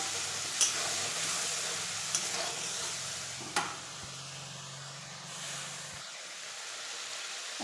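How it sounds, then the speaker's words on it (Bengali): Poppy seed paste masala being stirred in a frying pan, giving a steady low sizzle with scraping strokes and a few sharper utensil knocks, close and moderately quiet, no talking. "এবার আমি দেবো পোস্ত বাটা। এভাবে নেড়ে দেবো মশলাকে।"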